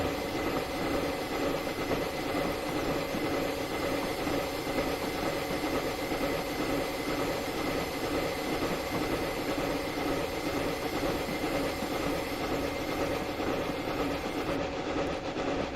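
A DSP&P Mogul steam locomotive labors along the Clear Creek line in Train Simulator, pulling boxcars at low boiler pressure. Continuous rail rumble and wheel clatter with a steady, unbroken drone.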